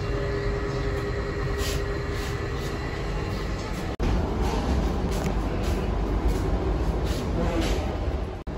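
Passenger train carriage rolling along at speed on an Indonesian route, a steady loud rumble of wheels on track with brief higher clatter, constant throughout with a short dip midway.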